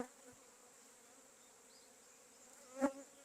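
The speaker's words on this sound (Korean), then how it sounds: "벌이 한참 많이 떴고요" A swarm of native honeybees lifts off from a hive in June, a faint, steady buzzing hum with one brief tap near the end.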